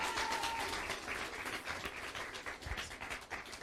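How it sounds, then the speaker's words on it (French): Crowd applause for a young dancer named Cindy at a Caribbean Christmas competition, a steady wash of clapping with a few louder bursts, fairly loud and continuous throughout. "Un applaudit Cindy, un applaudit Cindy"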